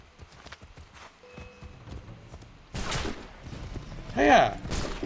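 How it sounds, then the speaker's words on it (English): Hooves clip-clop in a light, uneven rhythm in the video game Assassin's Creed III, mixed with game sound effects and a voice speaking and calling out. "The most beautiful horse."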